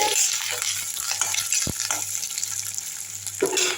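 Beetroot and tomato sautéing for a chutney, stirred in a pan: steady broadband sizzle throughout with a few louder scraping strokes of the spoon, close and moderately loud, no voices.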